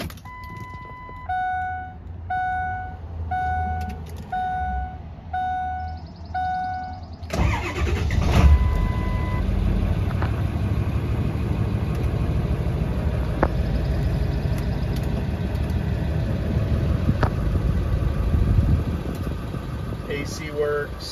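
A 2002 Ford F-550 with a 7.3 diesel engine and 136K miles. A repeating chime beeps first, then the engine cranks, catches and runs with a steady, strong rumble close by.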